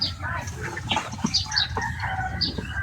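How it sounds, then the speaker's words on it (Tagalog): A hen clucks in short, scattered calls alongside other fowl sounds in a rural yard, moderately faint against low background noise. "Yun yata yung inahin eh."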